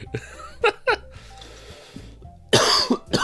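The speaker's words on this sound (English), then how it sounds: "So I'm sorry that I cough." A person coughs several times in bursts, with throat clearing and breathy sounds between, near and fairly loud, with a final heavy coughing fit at the end.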